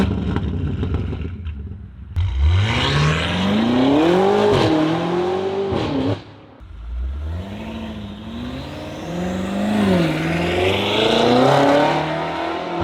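BMW M8 Competition fitted with downpipes accelerating hard, the engine revving up in two long pulls with rising pitch, loud and close, separated by a brief drop at the gear change and a short lull.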